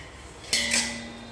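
Boiled pitha lifted out and set into a metal pot while making Chhath Puja kharna prasad, giving two quick, close metallic clinks of utensils with a faint hum underneath.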